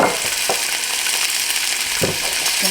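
Tomatoes and garlic sizzle loudly and steadily in a hot pan, with a couple of soft scraping stirs near the start and just past the middle, and nobody speaking.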